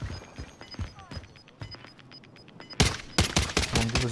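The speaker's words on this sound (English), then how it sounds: "Taking fire!" Gunfire in the video game Call of Duty: Modern Warfare, with scattered sharp shots that swell into a dense, loud burst of rapid fire over the second half, alongside game voices and chatter.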